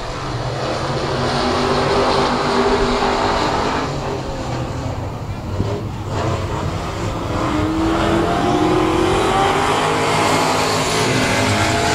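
600 mini sprint race cars roar around the Heart O' Texas Speedway oval in a steady, loud engine drone, while an announcer calls the race over the top.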